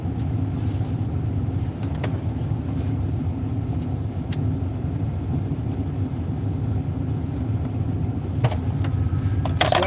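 Steady low engine and road rumble from inside a car driving through a cold snow storm, continuous and even throughout with a few faint clicks near the end and no talk.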